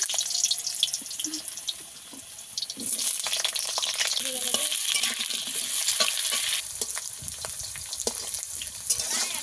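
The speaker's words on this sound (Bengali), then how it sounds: "আলুটাকে ভালো করে ভেজে নেব" Potatoes fry in hot oil tempered with black cumin, giving a steady close sizzle with stirring and scraping throughout and a brief louder burst partway through.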